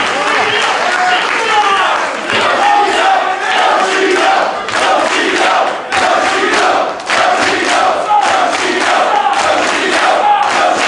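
Loud wrestling arena crowd roaring and chanting during a DGUSA pro wrestling match, surging in waves with brief dips, while a commentator talks over it.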